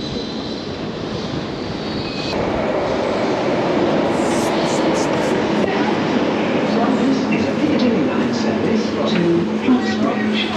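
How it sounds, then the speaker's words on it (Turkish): A metro train rumbles into an underground station in Turkey, a loud, steady roar building and holding for several seconds, with people talking faintly over it. "Bir tane metro geldi galiba şu an sesini."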